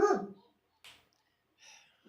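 A dog gives one short, close bark, followed by two fainter, softer yelps separated by silence.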